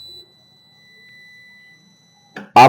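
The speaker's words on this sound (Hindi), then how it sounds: "आपका मीटर ये बजर शो कर रहा है" A multimeter's continuity buzzer beeps while a magnetic contactor is tested during repair: faint thin tones drift through near-silence, then a short loud tonal burst starts just before the end.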